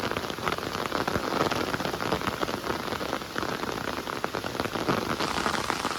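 Heavy, continuous downpour in the Konkan countryside, a dense steady hiss of rain drumming on surfaces throughout, close and loud with no voices.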